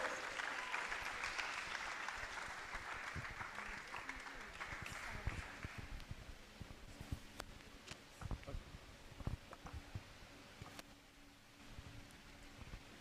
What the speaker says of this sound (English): A round of applause for her, please, as she comes up. Keep clapping